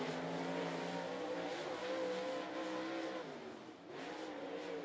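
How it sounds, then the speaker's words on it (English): Race car number four runs at Volunteer Speedway in Tennessee, its engine a steady, loud drone with shifting harmonics, easing briefly near the end before climbing again. "Car number four over into turn number one."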